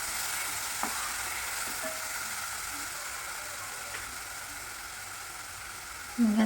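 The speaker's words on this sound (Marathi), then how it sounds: "आता याच्यामध्ये 1 मोठा टोमॅटो मी चिरून टाकलेला आहे। याला छान मिक्स करायचं आहे।" Chopped tomato stirred into browned onion in a pan for matar paneer, a steady soft sizzle with faint scraping running throughout, and a brief louder clatter near the end.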